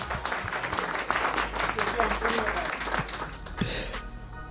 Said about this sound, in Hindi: अब यहाँ पे कुछ लोगों की तालियां थोड़ी सी कड़वी कड़वी भी आ रही हैं